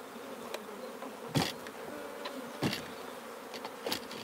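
Honeybees buzz steadily around an opened hive during cell building, a continuous insect drone close by with occasional louder passes of individual bees and faint handling knocks.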